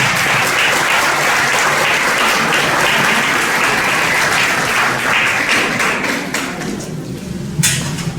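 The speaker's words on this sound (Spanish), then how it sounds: "Le damos un fuerte aplauso al Padre Mariano." A lecture audience at a pastoral education course gives a loud, sustained round of applause for a priest, thinning out near the end with a few final claps.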